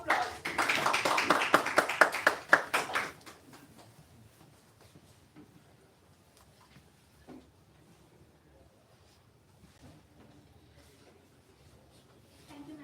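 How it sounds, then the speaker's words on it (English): A conference audience claps to welcome guests, a short burst of dense applause over the first few seconds that fades into scattered claps and faint room noise. "Let's welcome our guests with a big round of applause."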